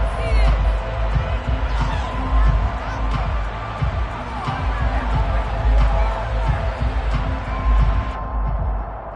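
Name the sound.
crowd shouting at a football game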